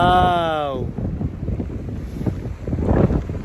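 Strong outdoor wind buffets the microphone on a rainy day in British Columbia, producing loud, uneven low rumbling gusts, preceded by a brief whistling tone.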